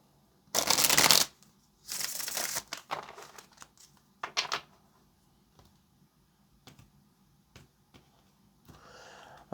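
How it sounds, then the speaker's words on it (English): Tarot cards shuffled by hand, several brisk riffling bursts in quick succession, then softer taps and clicks as the deck is squared, close and clear with no talking. "All right, last shuffle."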